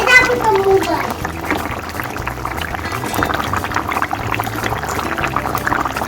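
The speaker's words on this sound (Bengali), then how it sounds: "একদম দেখুন টকবক টকবক করে ফুটছে।" A pot of curry with potatoes, Malabar spinach and small fish boiling, giving a steady bubbling and gurgling close by while a person talks over it.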